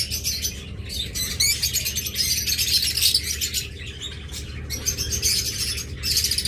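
Pet birds kept for sale, spangled budgerigar-type birds, chirp and twitter continuously in a busy, overlapping chorus, with occasional squawks over a low background hum.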